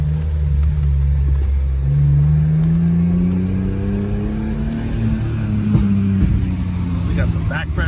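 A modified BMW E46 M3 engine drones loudly inside the cabin during a ride, the revs climbing smoothly and holding in a deep, resonant tone, with people talking over it.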